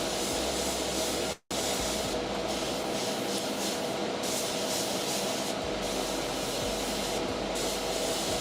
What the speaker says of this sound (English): This is designed to be sprayed over black.